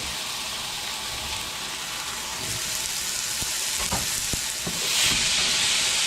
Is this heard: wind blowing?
no